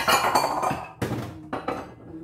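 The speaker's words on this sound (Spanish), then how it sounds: "Ahora los vamos a picar." A knife chops large shrimp on a cutting board in a kitchen, giving about six sharp, irregular knocks with short pauses between them.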